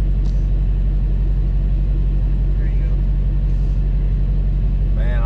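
A Dodge Hellcat's engine rumbles steadily with deep low-end drone throughout, close and loud, as the car pulls off, with people talking over it.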